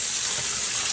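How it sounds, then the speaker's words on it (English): Tap water runs over a section of dyed spiral yarn, giving a brief steady close rush and splash heard alone. "So I'm actually gonna just let water run over that yellow section."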